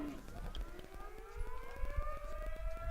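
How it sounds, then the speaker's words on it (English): Civil defense siren sounding the 8 o'clock signal at an outdoor stockdog cattle-field trial, a distant rising wail that climbs slowly in pitch, heard faintly under low rumbling ambient noise with no talk. "that siren you can hear in the background means it is 8 o'clock"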